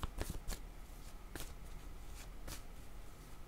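Tarot cards being shuffled for a reading: a series of crisp riffling bursts with pauses between them, close and fairly quiet, with no talking.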